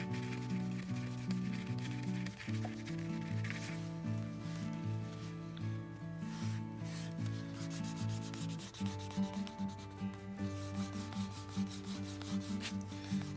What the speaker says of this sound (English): I'll use the side of my glove to start that burnishing process again.